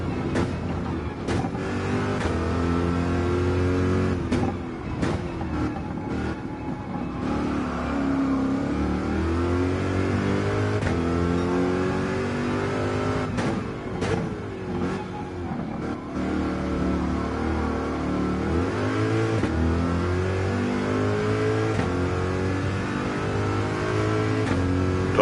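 A Corvette C7 Gr.3 race car in Gran Turismo 7 runs flat out on a Le Mans lap, its engine roaring loud and continuous with rising revs, gear changes and dips under braking, and no voices over it.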